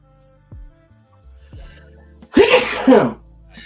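A single loud, explosive sneeze bursts out close by after a few quiet soft sounds, ending sharply.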